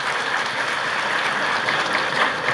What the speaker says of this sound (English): A big round of applause for that, please.